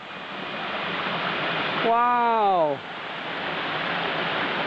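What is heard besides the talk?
large waterfall roaring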